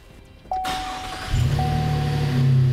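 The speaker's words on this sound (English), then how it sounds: "I can start the truck when I flip it up" A 2016 Chevrolet pickup truck's engine cranks over after a brief electrical chime and catches, settling into a close, loud, steady idle rumble.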